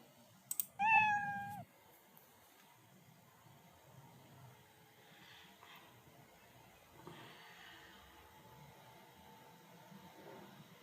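The Scratch cat sprite lets out a single short meow near the start, clear and fairly loud, followed by quiet room tone with faint clicks and soft keyboard-like taps.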